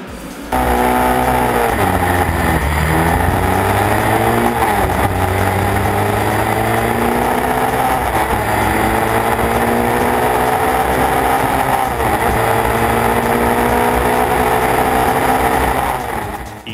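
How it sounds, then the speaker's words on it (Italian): Historic single-seater race cars, including a Lotus 22 and a Branca FJ, race past at Monza. Loud, high-revving engines hold steady throughout with rising and falling pitch sweeps as cars accelerate and pass. "Manfredo Rossi di Montelera con la Lotus 22 e Bruno Ferrari con la Branca FJ si sono divisi le vittorie"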